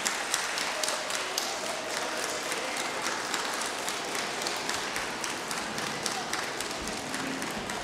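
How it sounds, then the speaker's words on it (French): A large crowd of students claps steadily in a hall, a dense, even patter of applause that keeps going from start to end without pause. "Vous pouvez les applaudir."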